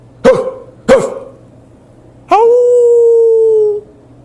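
A human voice imitating hounds: two sharp, gruff barks a moment apart, then a long sustained howl held for over a second, loud and alone with no other talk.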